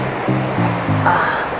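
Matulid Falls in Rizal roars loud and close, a dense, steady rush of falling water filling the air, with a few faint stepped tonal sounds surfacing briefly over the torrent.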